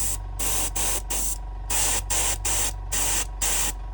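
Airbrush spraying paint at lowered air pressure, a steady hiss broken into about eight regular bursts with brief gaps between them, close and loud over a constant low compressor hum.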